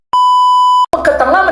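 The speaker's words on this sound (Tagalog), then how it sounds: "Ringtone." A single loud, steady electronic phone ringtone beep lasts under a second and then cuts off abruptly into brief noise.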